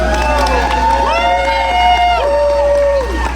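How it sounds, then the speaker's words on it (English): Crowd at an annual arts gala cheers and shouts, voices rising in sustained whoops and calls over a steady low hum, loud and close. "Round of applause for Audio Productions, our lighting and sound for the evening."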